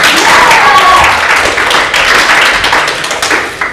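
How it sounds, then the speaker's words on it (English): Audience clapping for a little tap-dancing girl on stage, loud and close, with a dense, continuous patter that thins slightly toward the end. "Let's have a big round of applause for little Kitty Evans."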